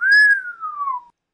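A single human whistle imitates a bird call, a clear tone that rises briefly and then glides slowly downward before cutting off, heard alone in silence.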